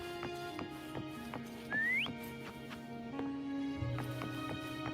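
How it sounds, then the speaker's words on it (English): A game character in Wuthering Waves whistles a short rising call to summon a horse, heard once near the middle over steady in-game music and ambience. "Why don't you call Foam over? Try whistling."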